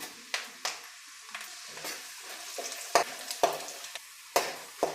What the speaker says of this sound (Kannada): ಈಗ ಕಡಲೆಬೇಳೆ ಉದ್ದಿನಬೇಳೆ ಕಡಲೆ ಬೀಜ ಎಲ್ಲ ಫ್ರೈ ಆಗಿದೆ